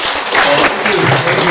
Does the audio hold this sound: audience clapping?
yes